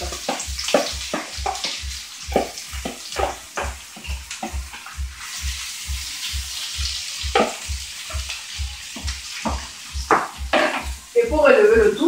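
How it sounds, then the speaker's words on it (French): Onion and pepper strips sizzle in hot olive oil, a steady crackling fry with a regular thumping pulse running underneath throughout, fairly close and moderately loud, with no talking. "je déverse des lamelles d'oignon et de poivre"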